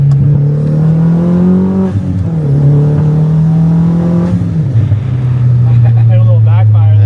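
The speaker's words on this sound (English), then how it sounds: "A little backfire there." An Audi TT Mk1 with a catless 3-inch exhaust revs hard, its loud engine note climbing and falling through several pulls, ending with a popping backfire crackle; people talk over it.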